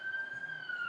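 A fire station siren wails steadily in the distance, a thin sustained tone drifting slightly in pitch over quiet background.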